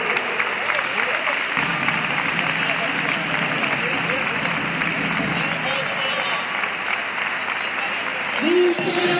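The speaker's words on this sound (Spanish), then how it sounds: "Un aplauso para este gran club." An audience at a handball club's presentation event applauds continuously, a dense sustained wash of clapping from a crowd indoors, with a brief voice near the end.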